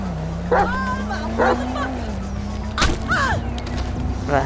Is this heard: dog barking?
yes